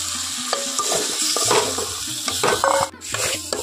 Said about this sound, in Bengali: আলুগুলোকে 1 মিনিট মতো হালকা আঁচে খুব ভালোভাবে মশলার সঙ্গে কষিয়ে নেব